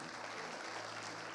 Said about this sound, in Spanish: Más fuerte ese aplauso al Señor